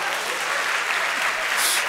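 An audience claps in dense, steady applause, a loud and continuous wash of hand claps with no voices on top.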